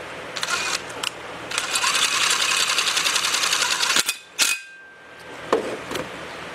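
A power driver gun runs screws into a Willys Jeep steering knuckle, giving a loud, continuous whirring buzz for about four seconds, then a few short bursts and clicks close by.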